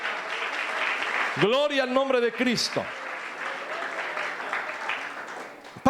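A church congregation claps at a sermon, a wash of applause running under a preacher's sung and spoken praise that rises over it midway.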